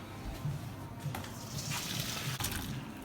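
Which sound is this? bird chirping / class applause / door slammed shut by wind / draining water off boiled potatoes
draining water off boiled potatoes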